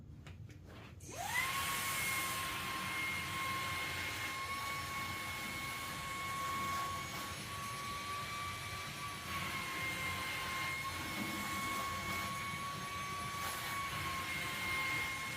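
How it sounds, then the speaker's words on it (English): A Levoit LVAC-200 cordless stick vacuum with an attachment fitted switches on and runs with a steady high-pitched motor whine and airflow hiss, loud and close, holding constant for the rest of the stretch. "So I'm going to turn the vacuum on."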